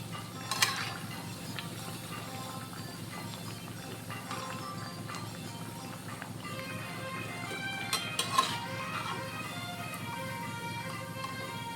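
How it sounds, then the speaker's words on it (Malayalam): Metal utensil clinking and scraping in a pan a few times as lentil fritters are scooped from hot oil, over a constant low bubbling background, close by with no speech. "അപ്പോൾ ഇതിങ്ങോട്ട് കോരിയെടുക്കാം"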